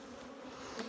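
Honey bees buzz steadily around a beehive frame during hive splitting, a dense continuous hum close by with no voices.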